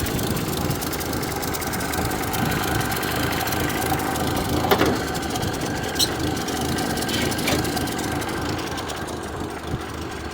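An abandoned 1929 Ford AA tow truck's 200 cubic inch Model A four-cylinder engine, with an exhaust leak at the pipe clamp, idles with a steady chugging rumble, heard close, with a few faint clicks and knocks.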